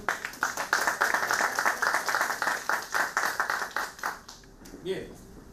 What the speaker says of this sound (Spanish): Vamos a dar un cálido aplauso al licenciado